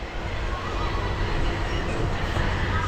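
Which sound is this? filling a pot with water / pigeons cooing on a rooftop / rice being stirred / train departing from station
train departing from station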